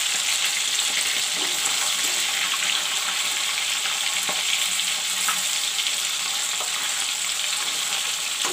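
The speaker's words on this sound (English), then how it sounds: "this way I will fry all the fish." Ruhu fish frying in a hot pan, a loud, steady sizzle and crackle with occasional stirring clicks, close and continuous throughout.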